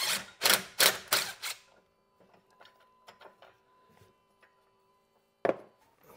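A 10 mm socket loosening the 12V battery fastener on a Tesla Model 3, heard as a quick burst of sharp ratcheting clicks, then sparse, faint clicks and taps, and one more short clicking burst near the end.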